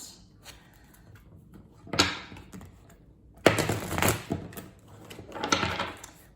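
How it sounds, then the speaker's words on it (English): Tarot cards are shuffled with soft riffling and papery slaps in a few bursts, separated by quiet pauses, close by. "Put these cards in a shuffle, clear the energy out."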